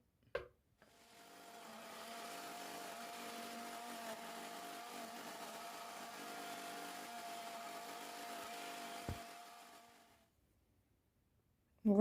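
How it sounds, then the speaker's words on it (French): An immersion blender whirs steadily through homemade soup for about nine seconds, a constant mid-pitched motor hum with a quiet wet churning, starting and stopping cleanly, with no talking. "je vais mixer tout ça avec le mixeur plongeant"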